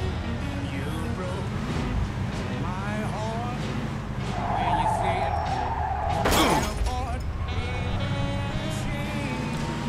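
Car tyres skid and screech for a few seconds while a car is driven in circles in the video game Mafia 2, with engine drone, game music and a loud crash underneath.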